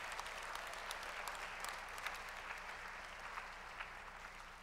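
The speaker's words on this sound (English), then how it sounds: "can we just give our guests a very big round of applause?" Church congregation applauding guests during a Sunday morning service, a steady wash of many hands clapping at moderate distance, fairly quiet and even throughout with no talk over it.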